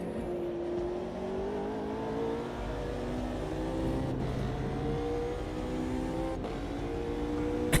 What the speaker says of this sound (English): The trouble is that Nismo is so rapid in a straight line once it gets going